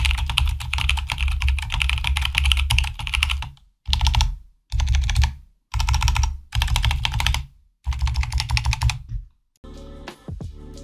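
Close, clacky typing on a Canon Keys Bakeneko65 gasket-mount mechanical keyboard comes in dense bursts of rapid keystrokes separated by short silent pauses.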